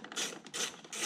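Three quick ratcheting bursts from a hand tool driving the screws that hold a Corvette C7 taillight into the bumper, close and fairly quiet with short pauses between strokes.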